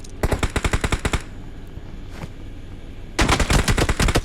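Video game gunfire: two loud bursts of rapid automatic fire separated by a quiet gap of about two seconds, with no talking.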